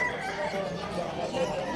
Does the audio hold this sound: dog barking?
no